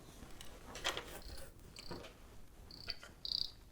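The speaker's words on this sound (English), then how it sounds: "There's that cricket again." A cricket chirps in short, faint, high bursts at irregular intervals in a quiet indoor room during electronics soldering, accompanied by small handling clicks and no talking.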